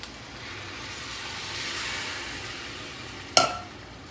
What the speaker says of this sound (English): Next, we're gonna add 1 cup of beef broth